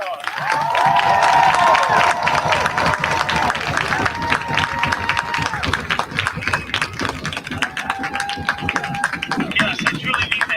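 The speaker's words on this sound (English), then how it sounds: "So please give them another round of applause." An audience claps for a high school marching band in a burst of applause with some cheering, while a person talks over the clapping as it fades.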